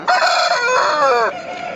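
A mature cross-bred red rooster with a short parrot-like beak crows at a busy poultry market in Pileru, giving one loud, close, sustained cock-a-doodle-doo that trails off near the end.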